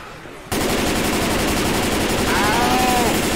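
Heavy, rapid automatic gunfire sounds in a zombie video game, erupting suddenly and continuing loud and dense, with fire aimed at a tank.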